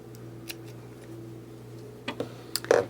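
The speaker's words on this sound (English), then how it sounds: "go ahead and cut that end off" Scissors snip off a yarn end on a crocheted triangle scarf, giving a few quiet, sharp clicks near the end over a low steady hum, with no talking.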